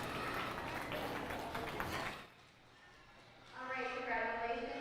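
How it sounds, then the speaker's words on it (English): Exhibitors at a sheep, swine and goat show at the Red River Valley Fair get a short round of moderate clapping that stops after about two seconds, followed by a quiet pause and then someone speaking. "Let's give these exhibitors a big round of applause"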